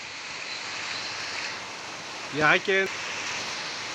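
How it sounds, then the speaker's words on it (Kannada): A heavy downpour falls on paddy fields in Odeyadahalli, Srirangapatna taluk, a steady, broad roar of rain that runs throughout, with a man's short remark partway through. "ತುಂಬಾ ದೊಡ್ಡ ಮಳೆ ಇದು"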